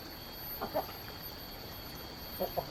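A chicken at a village home in the morning gives a few short, faint clucks, one around the start and a quick pair near the end, over a quiet background hiss.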